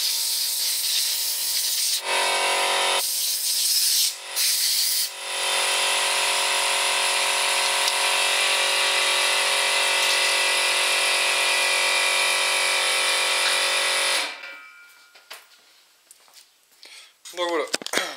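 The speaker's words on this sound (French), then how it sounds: "je vais mettre un petit coup de compresseur sur les ailettes du ventilateur" A loud, continuous blast of compressor air hisses onto a PC cooling fan's fins for about ten seconds after a few short bursts, then cuts off, leaving faint clicks and handling noises.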